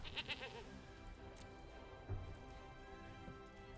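A goat bleats in a Magic: The Gathering video game, a few short clear bleats in quick succession near the start over a steady background of game music, then a soft thump.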